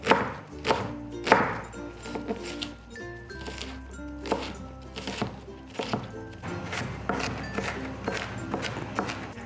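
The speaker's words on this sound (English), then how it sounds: "Remember being careful while you're chopping your onions." Onions being chopped small with a knife on a board, a quick series of close, sharp knocks in an irregular rhythm, with faint kitchen background and no talking.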